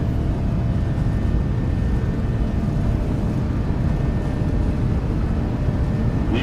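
A Boeing 737 rolls down the runway for takeoff in the PMDG flight simulator, with a loud, steady broadband roar of engines and rumble throughout.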